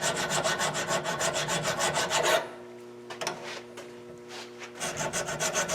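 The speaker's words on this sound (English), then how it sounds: "so that what I'm doing is a nice even filing." A hand file rasps rust off a brake rotor on a 2011 Impala in quick, even back-and-forth strokes, close and crisp, pausing briefly midway before the rhythmic filing resumes.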